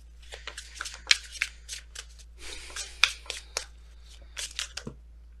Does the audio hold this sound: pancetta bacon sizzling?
no